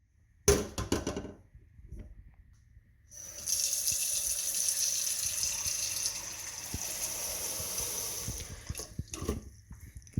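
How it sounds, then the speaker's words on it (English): Tap water runs into a cooking pot in a kitchen: a short knock and brief splash, a pause, then a steady hissing stream filling the pot before it cuts off with a few clunks. "get a pot out, fill it up with water"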